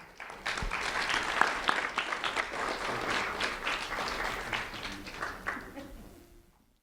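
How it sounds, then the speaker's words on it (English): A crowd applauds steadily for several seconds, dense clapping that swells early and then fades out. "A round of applause for Mayte, please."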